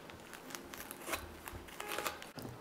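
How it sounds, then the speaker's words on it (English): A large food item is cut in half with a knife, giving soft crunching and crackling slicing sounds at close range and low volume. "I think I'm gonna have to cut this in half."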